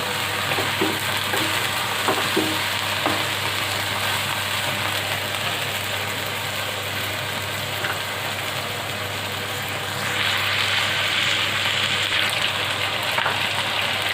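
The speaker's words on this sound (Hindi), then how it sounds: "चिकन फ्राई हो चुका है" Steady sizzling and crackling of chicken frying in a pan, with occasional stirring clatter and a low background hum, no talking.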